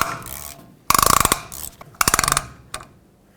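Rear wheel hub on a 2008-2010 Ford F-250 spun by hand to seat a new inner wheel bearing, giving close ratcheting clicks in two quick bursts and then a brief final tick.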